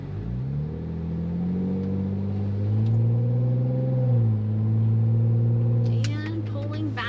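A new Ford Bronco drives through winter conditions toward town, its engine a steady mid-low drone inside the cabin that rises and falls as speed changes, with a brief chirping sound near the end.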